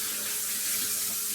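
Tap water pouring over a kitchen strainer as it is rinsed, a dense steady hissing splash heard up close without any voices.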